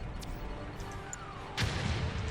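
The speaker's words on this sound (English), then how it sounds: "Look, an explosion." An explosion in Red Alert 3 Uprising strikes suddenly after a stretch of low battlefield rumble, a single heavy boom with a deep lingering roll, preceded by a faint whistling streak.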